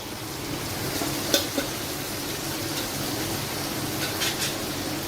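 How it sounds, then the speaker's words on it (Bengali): Ground spices, coriander, cumin, chili and turmeric, fry in a pan. A soft, steady sizzle runs throughout, broken by a couple of light scraping clinks from stirring. "মশলাটা ভালোভাবে কষে নেব"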